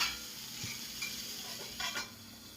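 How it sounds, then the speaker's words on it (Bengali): Pumpkin pieces fry under a lid in a pan, giving a soft, muffled sizzle with a few light clinks of utensils. "কুমড়োটা এইভাবে ঢাকা দিয়ে ভেজে নিন"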